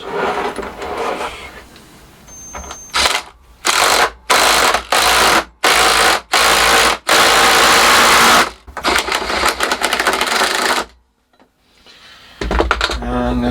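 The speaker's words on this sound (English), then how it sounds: "we just put the ratchet driver in and get the ends threaded for the bolts" A ratchet driver threads bolts into the ends of a homemade engine stand, heard as a series of short, loud mechanical bursts with brief gaps between them, then a longer run and a quieter stretch of workshop noise.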